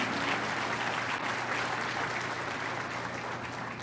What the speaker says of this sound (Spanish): Yo creo que merece un aplauso el Señor.